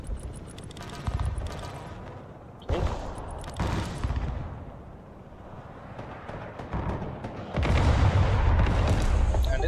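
Bombing strikes and artillery in the military strategy game Broken Arrow: heavy booms and rolling blasts, with a loud burst near the start, another around a quarter in and a sustained rumbling barrage toward the end, under a voice.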